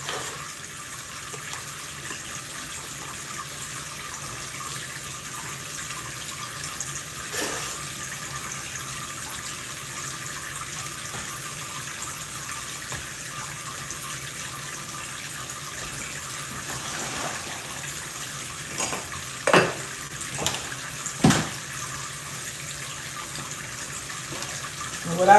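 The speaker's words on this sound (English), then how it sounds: "I got water running because when I cut them, I'm going to put them in that sink." Tap water runs steadily into a sink in a home kitchen while stems are cut, a constant wash of flow with a few louder splashes and knocks near the end.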